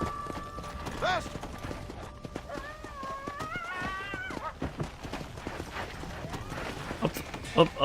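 Hooves clop in a fast, rhythmic gallop in a video game (Red Dead Redemption: Undead Nightmare), with a whinny and tonal music-like sounds layered over the running.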